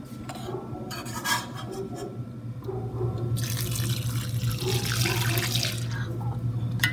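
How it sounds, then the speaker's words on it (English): Whey drains from curdled, slightly scalded milk through cheesecloth while paneer is made in a kitchen, a steady close splashing pour that swells louder partway through, with no talking. "I'm pouring off the whey"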